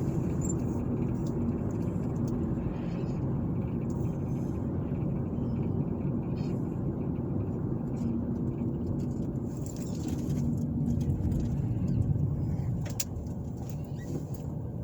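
A car drives down Parkway Drive in Tallassee, Alabama, heard from inside as a steady low road and engine rumble with faint chirps and ticks over it, continuous throughout.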